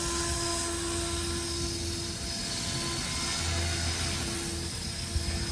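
A Trex 450 RC helicopter flying on a Flywing H2 controller gives a steady high-pitched rotor and motor whine with a constant droning tone, sustained and fairly loud with no voices.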